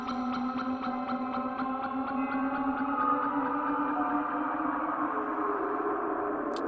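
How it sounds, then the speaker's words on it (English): Whale-like synthesizer tone from the Sugar Bytes Aparillo plugin: a sustained, moaning drone with a rapid pulsing flutter that slowly fades and smooths out, steady and fairly loud. "That sounds just like a whale."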